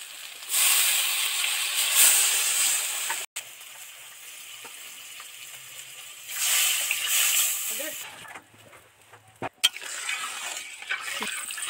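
Hissing steam and sizzle as water goes into a hot pan of spicy Bengali garlic-paste bata fish curry, loud bursts rising and fading twice over about ten seconds, with voices talking between them.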